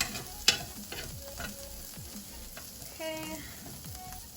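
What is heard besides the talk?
chicken frying in oil in a skillet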